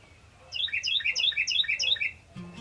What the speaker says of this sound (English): is a cardinal.